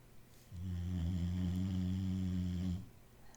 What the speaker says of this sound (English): What about a dog snoring?